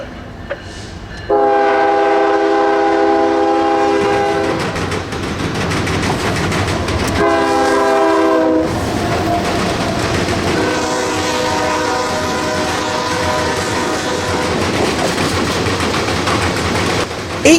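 A Norfolk Southern freight train rumbles past up close, its horn blaring in two long blasts over the steady roar and clatter of the cars.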